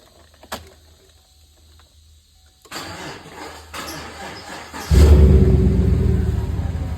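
Chevrolet Silverado Z71 Louisiana Sportsman Edition with a 5.3-litre V8 and straight catalytic pipe, cranking on a sluggish battery with a few brief attempts before the engine catches and settles into a loud, steady idle rumble nearby.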